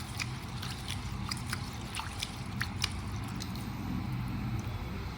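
Basmati rice being washed in water, with soft squishing, sloshing and trickling as grains are rubbed and stirred by hand, steady and close throughout with no talking.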